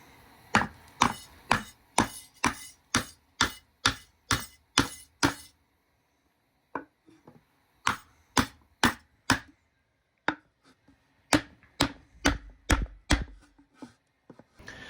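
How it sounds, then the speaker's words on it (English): Repeated sharp wooden knocks from a hammer hitting a wood block during a Ford F-150 Sterling 10.25 axle swap, a steady run of about a dozen blows, a pause, then more strikes in bursts. "a block of wood and a hammer is what we get"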